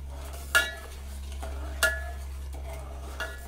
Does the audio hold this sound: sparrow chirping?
no